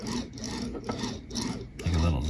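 A small diecast toy car's wheels roll across a surface with a brief, raspy whirring buzz, close up, briefly broken by a louder low bump.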